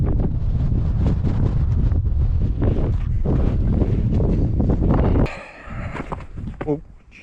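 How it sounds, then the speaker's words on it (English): Strong wind on a walk down from a high point near Playa Blanca, Lanzarote, buffets the microphone in a loud, steady low roar for about five seconds, then drops to gustier, weaker rushes near the end. "as you would have just heard there, that wind started to pick up"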